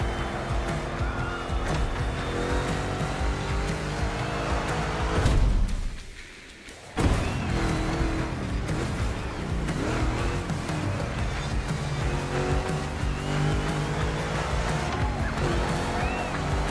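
Racing cars in The Crew Motorfest roar steadily through a two-lap race with tire squeal, engine noise constant and loud, dropping briefly to near silence before resuming at full intensity.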